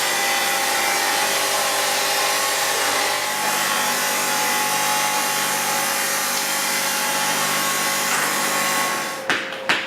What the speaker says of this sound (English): it gets loaded into this calibrating machine and gets cut down to size